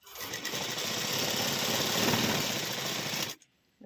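A sewing machine runs a quick stitch through a folded triangular fabric piece for a sleeve design, a loud close continuous whirring burst of about three seconds that cuts off into near silence.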